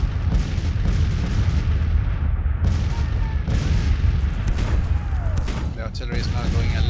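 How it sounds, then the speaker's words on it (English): Artillery fire in the Grand Tactician: The Civil War video game, a steady barrage of booms rolling through the whole stretch, loud and continuous with scattered sharper reports and distant crackle beneath. "The artillery is now going a little bit closer."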